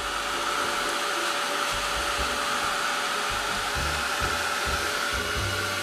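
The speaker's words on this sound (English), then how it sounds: "So let's take the dryer to it, and it's going to take a bit to dry" A hair dryer blows on wet paint on a Bible journaling page, a loud, steady whooshing roar with a constant motor whine running unbroken throughout.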